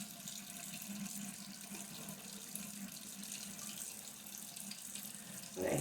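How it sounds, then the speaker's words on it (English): A bathroom faucet runs steadily into a sink while a face is being wet, a continuous close splashing stream that swells louder at the very end. "you're going to wet your face again because it needs to be wet."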